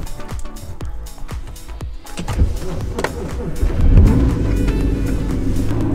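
A BMW F30 car cold-starting at minus 27 degrees: clicking starter cranking for about two seconds, then the engine catches into a loud, steady low rumble that swells and holds close by.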